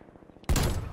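Marshal shotgun fired in Black Ops Cold War, a single loud, sudden blast halfway through that stays dense and roaring to the end, following a quieter stretch of low rumbling game sound.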